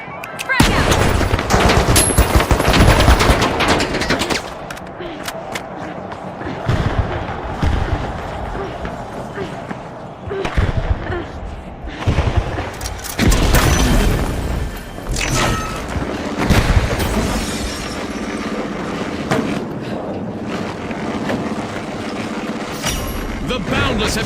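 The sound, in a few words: frag grenade thrown and exploding in The Finals video game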